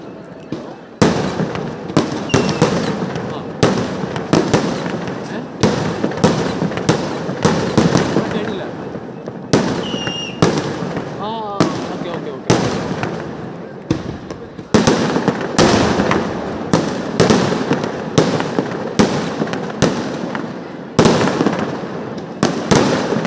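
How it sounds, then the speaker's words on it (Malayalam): Sample fireworks at Thrissur Pooram, a dense, loud barrage of rapid bangs and crackling bursts that goes on without a break, with crowd noise and a voice underneath. "പൂക്കൾ വാരി വിതറുന്ന വർണ്ണരാജികൾ സൃഷ്ടിക്കുന്ന മനോഹരമായ സാമ്പിൾ വെടിക്കെട്ട്."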